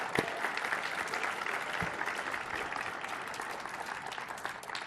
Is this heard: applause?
yes